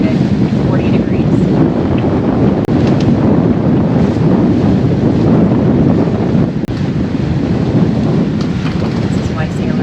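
Strong wind of about 18 knots roars over a sailboat at sea in heavy seas, a loud, continuous buffeting rush with water wash beneath and a couple of brief dropouts.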